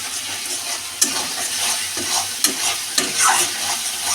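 Tilapia in a mustard-poppy seed curry sizzles in a pan while being stirred, a loud, close frying hiss with a few distinct scraping knocks from the spoon.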